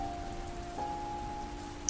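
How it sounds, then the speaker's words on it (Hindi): Light, steady rain falls as a faint, even patter with a soft steady hum beneath it and a tiny drip-like tick near the end, heard alone. "सुबह से ही हल्की हल्की बारिश लगातार हो रही है"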